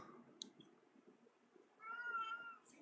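A house cat gives one drawn-out meow, moderately loud, after a few faint clicks in a quiet room.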